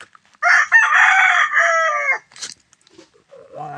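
A rooster crows loudly and close by in a small backyard chicken farm, one long drawn-out call followed by a few softer clucks and rustles.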